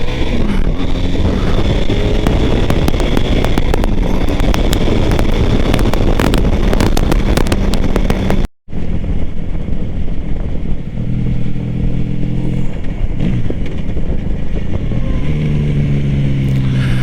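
A cruiser motorcycle pulls away on a test ride, its engine note climbing steadily through first gear under heavy wind rush, with a brief dropout midway.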